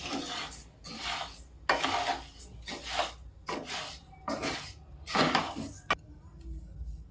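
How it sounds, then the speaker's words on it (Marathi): Rice grains dry-roasting in a pan while being stirred without pause for a crisp Diwali snack, rhythmic scraping and rustling strokes repeating about every second, close and moderately loud. "मी तांदूळ छान भाजून घेते तांदूळ सतत हलवत राहायचे"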